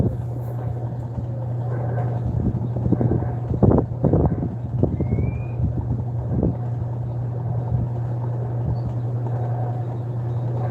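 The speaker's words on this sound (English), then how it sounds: "I think it's spinning faster than the other spin cycle." A washer-dryer hums steadily through a spin cycle, a constant low drone with scattered knocks and thumps from the drum, close and moderately loud.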